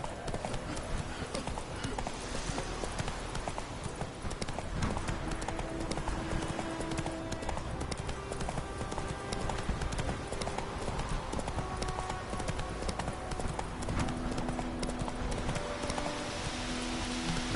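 Roach, a horse in The Witcher 3 video game, gallops with a fast, steady clip-clop of hooves under a dense wash of ambient game sound, moderately loud and continuous throughout.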